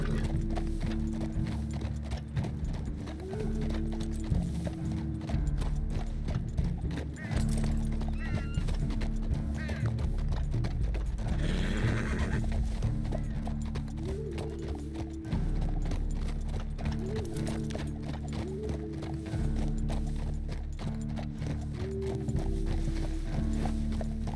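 Horse hooves clip-clop steadily along a steep, rickety path in Red Dead Redemption 2, with occasional whinnies and neighs over a continuous game soundscape; the horse stays close and loud throughout.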